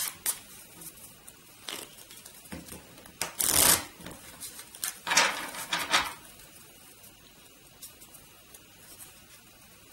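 A deck of cards for a board game is shuffled close by, with quick riffling bursts and softer rustles between them.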